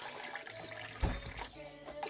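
Water is poured from a cup onto uncooked rice in a pot, a faint, close splashing trickle with a couple of brief louder splashes.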